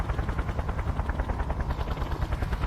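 A helicopter arrives in the video game Just Cause, its rotor beating in a fast, steady chop that pulses evenly throughout at moderate loudness, with no voices.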